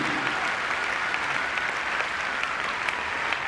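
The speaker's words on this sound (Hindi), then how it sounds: "जोरदार तालियां दीजिए brand new double diamond lady Sunita के लिए" An audience at an Amway success seminar in Delhi breaks into steady, dense applause, the clapping sustained and even throughout, moderately loud with no voices standing out.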